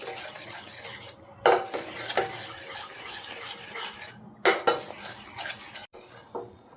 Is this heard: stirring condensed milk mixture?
yes